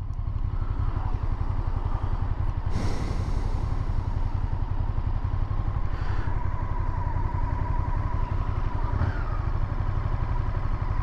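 A warmed-up 1998 Honda VTR SuperHawk V-twin idles at about 1100 to 1200 rpm, a close, loud, steady low throb that runs without a break.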